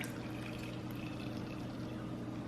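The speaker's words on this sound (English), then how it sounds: "I'm adding half the juice of a lemon." Half a lemon's juice is squeezed into a vegan sour cream base, giving a steady, soft trickling and splashing of liquid throughout, with no voices.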